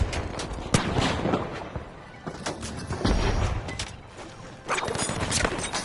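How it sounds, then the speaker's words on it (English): Flashbang grenade detonating in The Finals, a competitive team shooter, amid dense gunfire and crashes; sharp loud bangs burst repeatedly over a constant roar of combat. "Using a flashbang!"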